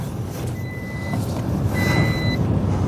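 A used Toyota Aygo's seatbelt warning chimes in two short, thin electronic beeps, one then a pause then another, heard over steady low engine and road rumble inside the car.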